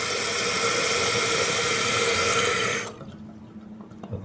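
A toilet tank refills through its fill valve with a steady hiss of flowing water. The hiss shuts off near the end, leaving faint drips and a quiet room.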